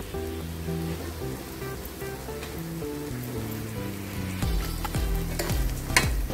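A spoon stirs a bread bhaji mixture in a pan, giving close scraping and soft sizzling with light clinks, continuous throughout and a little louder toward the end, with no talking.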